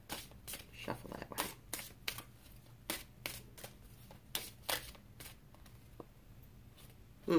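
Tarot cards are shuffled by hand in quick, crisp riffling bursts spaced irregularly, close and fairly quiet.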